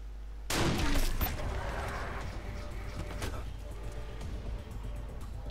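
Gunfire in the turn-based game Wasteland 2, a sudden loud burst of shots that rings out and decays into a lingering rumble, with no talk over it.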